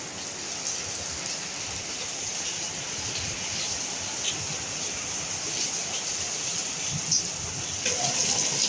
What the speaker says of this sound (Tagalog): Grabing lakas ng ulan ah.